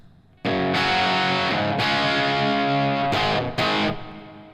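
Distorted electric guitar through a Blockhead Marshmello plexi amp with the Jose Mod50 pushed in, loud sustained chords struck several times in a steady riff, ringing out alone.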